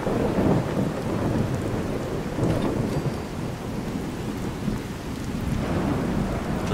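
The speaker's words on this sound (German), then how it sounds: "Das Gewitter ist schon wieder so laut." A Fallout 4 thunderstorm, with steady loud rain and rolling thunder rumbling throughout, dense and continuous with no voices.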